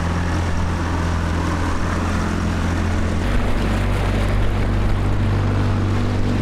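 A sailboat taken out of gear and left to drift and spin in a strong current: steady loud low engine idle hum with rushing water and wind throughout, the drone shifting slightly in pitch midway, no talk.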